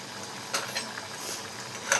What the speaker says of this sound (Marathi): हे बघा अशी मस्त उकळी फुटलेली आहे.